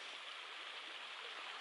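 Lick Creek on the Appalachian Trail in winter snow, flowing in a steady, even rushing babble heard alone without talk, moderately close and fairly soft.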